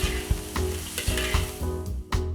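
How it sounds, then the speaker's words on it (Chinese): Fresh edamame and minced pork being stir-fried in a wok, with a steady close sizzle broken by repeated scraping strokes of the spatula at a roughly even rhythm, loud and with no talk. "放入鲜毛豆，翻炒均匀"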